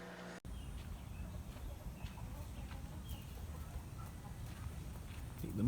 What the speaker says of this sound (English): let's cut to some chickens in my backyard